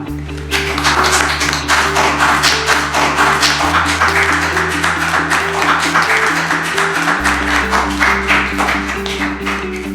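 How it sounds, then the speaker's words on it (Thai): Office staff clap together to congratulate a top-selling colleague. The applause is loud, dense and continuous throughout, with steady background music underneath. "ให้ทุกคนปรบมือแสดงความยินดีคุณเหมยด้วยครับ"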